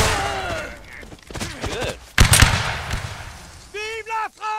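A reenactment rank formation fires a musket volley, a sharp loud crack ringing out mid-scene amid shouting and chatter, followed by more raised voices.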